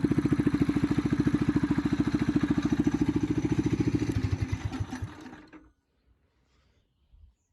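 A go-kart engine fitted with a stage 1 performance kit runs with a loud, rapid, close putter that slows and sputters before cutting off into near silence.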